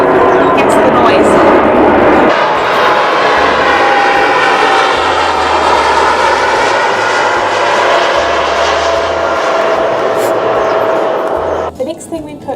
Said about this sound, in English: We live under a flight path. Hence the noise.